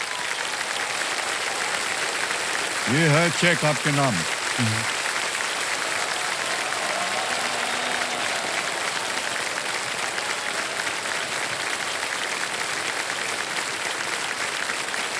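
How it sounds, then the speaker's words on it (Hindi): Studio audience on a televised quiz show applauds for a contestant, steady loud clapping throughout, with a voice speaking briefly over it near the start. "ताली बजती रहे इनके लिए।"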